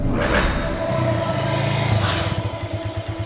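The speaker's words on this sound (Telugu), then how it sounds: "ఏంటి సార్ ఇంత ట్రాఫిక్?" Car engines hum and rev nearby in busy traffic, a steady low rumble with passing vehicles.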